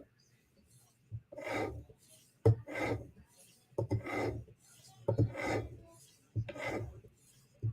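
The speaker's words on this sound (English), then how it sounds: "So strop's purpose is to straighten the very apex of the knife out, to pull off the burr, and to polish the bevels." A knife edge drawn over a strop in repeated rasping strokes, about six passes with brief gaps, close and moderately loud, with no talk.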